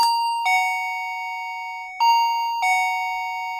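A wireless doorbell sounds its default chime right after batteries go in: three clear, ringing electronic bell tones, each struck and left to decay, close and loud with no talking.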